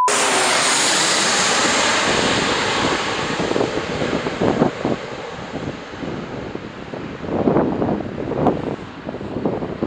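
A steady turboprop engine roar from an arriving Beech 1900 airliner at Pau-Pyrénées Airport fills the air throughout, blended with strong, cold wind buffeting the microphone.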